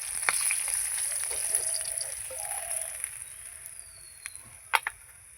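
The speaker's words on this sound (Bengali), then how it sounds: "এই যে লাল লাল করে ভেজে নিয়েছি মাছগুলো" Small tengra fish frying in hot oil for a light vegetable curry, giving a steady soft sizzle throughout with a few sharper pops and crackles near the end, fairly quiet and with no talking.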